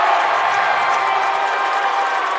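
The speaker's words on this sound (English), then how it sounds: "I'm sure at home you can hear the roar of this Trojans crowd" A packed high school basketball gym roars as Trojans fans cheer during a regional playoff game, a loud, sustained wall of crowd noise with no break.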